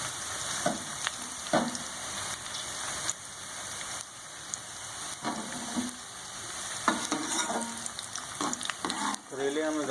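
Sliced bitter gourd (karela) fries in hot oil in a pan, a steady close sizzle and crackle with occasional clinks of stirring.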